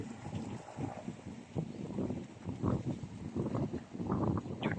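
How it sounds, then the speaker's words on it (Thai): A strong wind gusts across a farm in Sisaket province, Thailand, on a cool late-December afternoon, roaring and buffeting the microphone in uneven surges with no speech. "ลมแรงมากครับบรรยากาศตอนนี้นะครับ"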